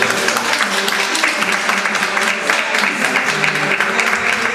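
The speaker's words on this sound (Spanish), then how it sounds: "vamos a dar un forte aplauso para Gabri Fernández" Audience applauding singer Gabri Fernández, a steady, dense wash of clapping filling the room throughout, loud and continuous, with some tonal background sound running underneath.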